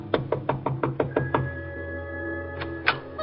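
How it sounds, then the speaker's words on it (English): Knuckles rap on an office door in a radio drama sound effect: a quick series of about seven sharp, close knocks, then a pause and two more separate raps. "then she went over and knocked on the door"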